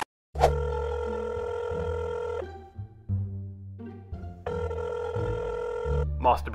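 An electronic telephone ring sounds in tonal bursts, a sustained ringtone phrase, a brief gap, then the ring resumes, fairly close and clear.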